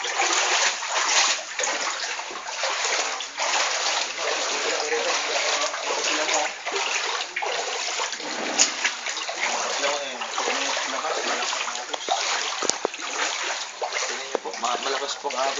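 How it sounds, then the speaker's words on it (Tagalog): Strong current of flood water rushing past a flooded church and school in the Philippines, a continuous loud splashing, gushing flow with fluctuating surges, heard up close. "Malakas pong agos ng water."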